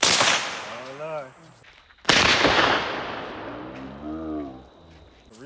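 Two loud 12 gauge shotgun blasts, each a sharp crack with a decaying tail, spaced about two seconds apart at close range, with people talking in between and afterward.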